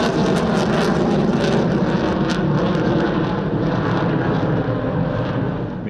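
A MiG-21 fighter jet roars steadily and loudly at a Romanian airshow, its broad engine rumble fading slightly toward the end, with no voices.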